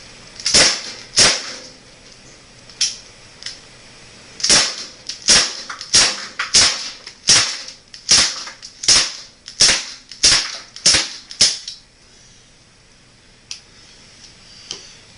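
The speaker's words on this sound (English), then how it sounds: "Shoot for Bin Laden's head." Gunshots ring out at a target near a backyard cabin, roughly fifteen sharp, loud cracks fired in an uneven but steady series, some in quick pairs, then the shooting stops and the air falls quiet.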